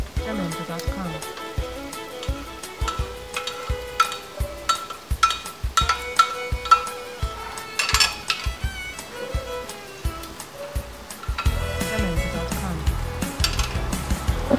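Sliced bell pepper, dedo-de-moça chili and grated carrot hit a pan of sausage ragu, giving a steady crackling sizzle with repeated sharp knocks and scraping from stirring, loud and close throughout.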